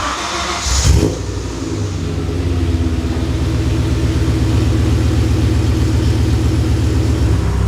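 A BMW M5 cranks and catches with a sharp burst, then settles into a loud, steady rumbling idle that builds slightly, close by and with no talk over it.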